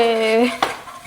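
A metal spoon stirs milk into a mixture in a cooking pan: a brief ringing scrape, then one sharp, close clink against the pan's side, with no talking.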